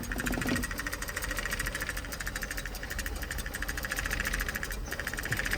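An Opel Corsa engine idles roughly with a choppy, uneven chug and a rattling knock, steady and close, with no voices.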